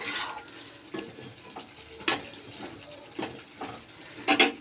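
Fish curry being sautéed in a pan, with quiet scrapes and clinks of a spoon stirring at irregular intervals and faint sizzling underneath.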